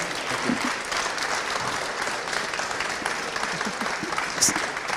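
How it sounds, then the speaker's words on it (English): A conference audience gives a round of applause for a presenter, many hands clapping in a continuous moderate patter that carries through to the end. "Matt deserves a big applause from everyone"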